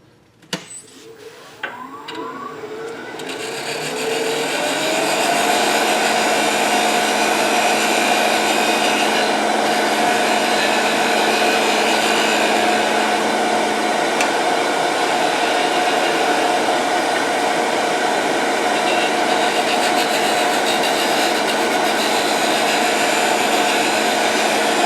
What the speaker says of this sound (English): do the heavy work with my gouge